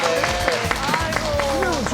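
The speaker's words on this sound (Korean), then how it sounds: "박수 주세요." Studio audience clapping on a Korean talk show about hair loss, rhythmic hand claps running under a host's voice and music throughout.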